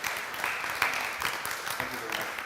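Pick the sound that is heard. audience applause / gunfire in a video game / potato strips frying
audience applause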